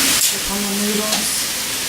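Shrimp and onion stir-fry in a hot pan, a steady close sizzle broken by brief scraping strokes of stirring, with a short voiced sound partway through.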